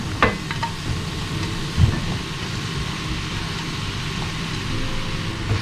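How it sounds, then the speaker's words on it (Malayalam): Chopped mushrooms go into a pan of masala and sizzle steadily, with a couple of sharp knocks and stirring scrapes over the constant frying noise. "ഇനി ഇതിലേക്ക് നമ്മൾ അരിഞ്ഞു വെച്ചിരിക്കുന്ന മഷ്റൂം ഇട്ട് കൊടുക്കുകയാണ്"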